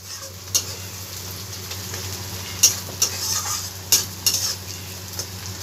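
Onions cook in a pan toward light brown with a soft, steady sizzle, punctuated by a handful of sharp clicks and scrapes from stirring against the pan, close and without talk.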